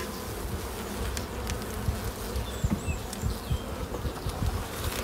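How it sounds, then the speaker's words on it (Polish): Honeybees buzz in an opened hive of a weaker, damp colony in an apiary, a dense close-up hum with individual insects droning past, steady throughout with no talking. "Nie no, trochę pszczół. Trochę pszczół jest."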